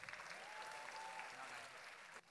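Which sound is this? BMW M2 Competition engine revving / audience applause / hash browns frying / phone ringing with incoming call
audience applause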